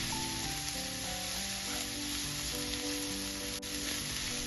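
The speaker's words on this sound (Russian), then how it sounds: "Обжариваю овощи до мягкости." Sliced onion and grated carrot sizzle steadily in a little vegetable oil in a pan, a continuous close frying hiss with no voices.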